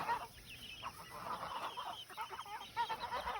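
Chicks and geese on a freshly fenced farm pasture, a steady chorus of chirping and honking calls at moderate distance, overlapping continuously with no talk.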